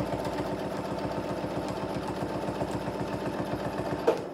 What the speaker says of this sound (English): So as I'm sewing,